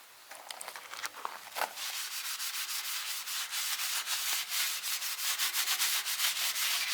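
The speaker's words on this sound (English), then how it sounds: "imitate the actions of someone polishing it over all those years" An antique lamp being polished by hand, with close, steady rhythmic rubbing strokes that start with a few light scrapes and then build into loud, continuous back-and-forth friction.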